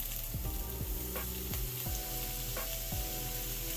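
Bacon sizzling in a hot pan for a jalapeno burger, a continuous crackling hiss with occasional sharper pops and utensil scrapes, close and steady throughout.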